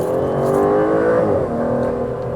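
An Aston Martin DBS Superleggera engine revs hard and loud up close, a dense sustained roar that climbs and then settles to a steady, slightly lower drone, with no talking over it.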